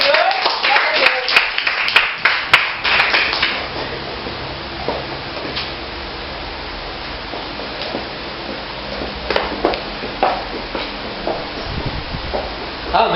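A church congregation claps loosely and unevenly at an evangelical service, bursts of clapping at the start and again later, with a murmur of voices between.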